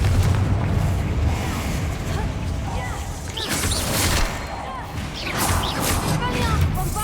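Fiery blast spells crack and boom in a Hogwarts Legacy battle, several bursts and crashes layered over a constant rumbling game soundtrack, with no pause between impacts.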